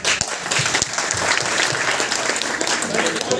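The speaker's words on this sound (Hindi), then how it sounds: "मैं इन लोगों के लिए जबरदस्त तालियां चाहता" An audience applauding leaders at a product-experience event, steady dense clapping throughout with a few sharper near claps, while a voice speaks over it.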